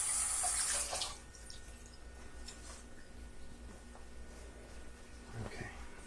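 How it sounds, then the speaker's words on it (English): Tap water runs into a kitchen sink as greasy hands are washed while baking a cake from scratch; a steady, fairly quiet trickle with light splashes and faint clinks, louder at the very start. "Let's wash them off."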